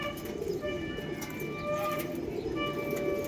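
Pigeons at a loft coo softly and repeatedly, their low calls layered over a continuous outdoor background hum.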